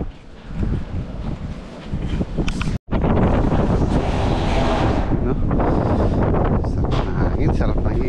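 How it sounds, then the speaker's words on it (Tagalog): Strong wind buffets the microphone in loud, continuous gusts, with a brief dropout partway through and a voice speaking under the roar. "Sarap ng hangin, sarap ng himoy ng hangin."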